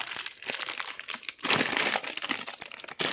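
Factory plastic bag wrapping around a Marcool 4-16x44 rifle scope crinkles and rustles loudly up close, in bursts of handling with brief pauses.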